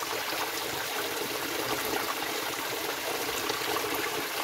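Clear spring water flows in a steady, even rush of noise, constant and close, with no voices over it.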